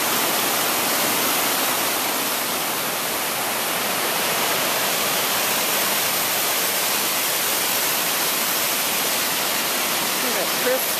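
Multnomah Falls roars as a dense, steady broadband wash of falling water, loud and unbroken throughout, with no breaks in the rush.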